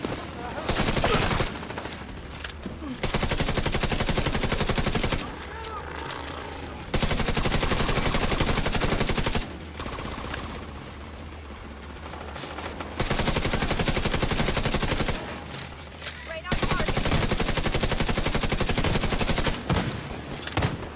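Enemy fire in a shooter video game: long, loud bursts of rapid automatic gunfire come in several sustained stretches, broken by short quieter gaps, close and heavy throughout.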